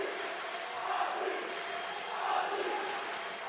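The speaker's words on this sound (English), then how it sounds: "you can hear the Swiss fans how they're cheering" Swiss fans cheer at a World Tchoukball Championships masters match, a distant, faint crowd roar swelling twice in an indoor hall.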